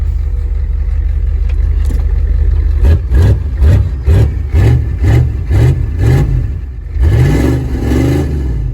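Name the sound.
van engine running and revving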